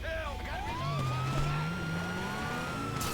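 A police car siren in the video game GTA Online wails in rising and falling sweeps over steady engine and road noise, with a voice speaking alongside.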